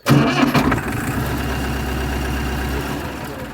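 A Massey Ferguson MF 65 tractor engine cranks and catches with a brief rough burst, then settles into a steady, low, rumbling idle close by.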